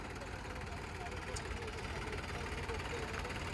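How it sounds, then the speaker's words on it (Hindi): A Sonalika DI 750 tractor strains up a steep slope during a power test, its engine a steady, loud, rough drone that holds without a break for the whole stretch. "ये देखो भाई सोनालिका भी फाइनली चढ़ गया है चढ़ाई पे"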